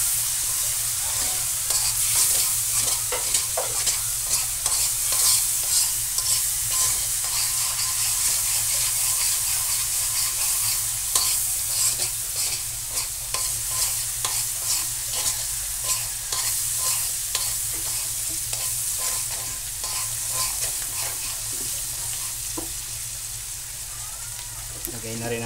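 A large amount of garlic sautés in a pan for buttered mud crab, producing a loud, constant sizzle with rapid, repeated stirring scrapes across the whole stretch, close up and without talking.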